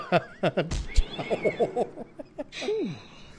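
A cartoon cat in the adventure game Randal's Monday meows in a quick string of short, close cries, then gives one longer, drawn-out, wavering meow, with some voice sounds mixed in.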